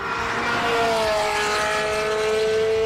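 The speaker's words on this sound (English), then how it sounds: "This is one of my favorite car sounds of all time." A classic car at the Simola hillclimb sings a loud, sustained engine note as it climbs the course, the steady pitch rising slowly while it holds full throttle, no voices over it.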